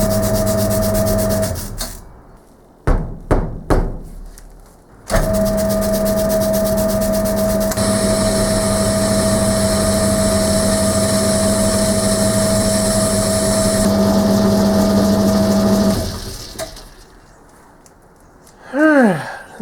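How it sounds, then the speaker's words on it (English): Metal lathe turning a crankshaft hub held on a faceplate, a steady motor whine with a constant hum and rubbing cutting noise over several seconds, broken by short bursts and stops as the machine starts and halts, no talk. "need to thin down this part, which will be a faceplate job on the lathe"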